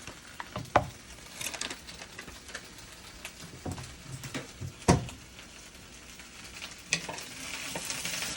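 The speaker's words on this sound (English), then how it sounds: "I'm gonna saute these until the mushrooms are not chewy anymore." Mushrooms, potatoes and other vegetables saute in a pan with a steady, close sizzle, broken by repeated scraping stirs and a few sharp knocks of the utensil against the pan.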